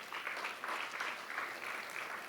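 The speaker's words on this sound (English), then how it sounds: "So give yourselves a round of applause." A high-school writers-week audience claps in a steady wash of applause, moderately loud and continuous with slight swells throughout.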